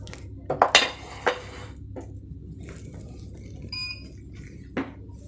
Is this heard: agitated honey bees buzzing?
no